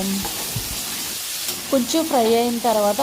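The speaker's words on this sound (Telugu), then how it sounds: "కొబ్బరికాయ ముక్కలు కూడా ఆ పచ్చిమిర్చి లాగానే మనము కొంచెం ఫ్రై అవ్వాలి." Coconut pieces and green chillies fry in a pan with a steady sizzle and hiss, while a voice talks over the cooking.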